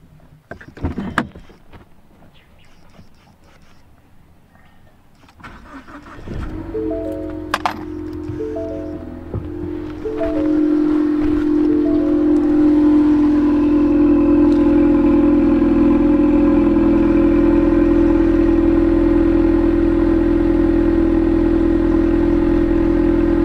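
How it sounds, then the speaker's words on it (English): A 1988 Pontiac Firebird engine cold-starts after a few clicks and cranks, catching into a loud, steady, close idle that holds to the end. "Let's do another cold start, guys."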